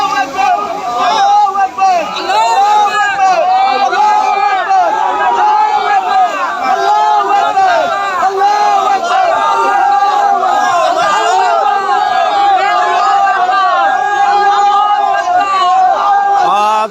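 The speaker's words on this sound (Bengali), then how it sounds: "প্রত্যেকটি মোমিন মুসলমানের মুখে একটাই স্লোগান চলছে যে আল্লাহ একবার আল্লাহ একবার" A dense crowd at a market fire in Noakhali chants together in rhythm without a break. Many voices overlap loudly throughout.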